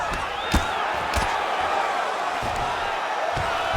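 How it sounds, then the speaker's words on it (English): Arena crowd at a UFC Monday Night event, a steady roar of cheering that holds loud and even throughout, with a few sharp thuds and a brief whistle rising out of the din. "big pop from the crowd as they get back to their feet"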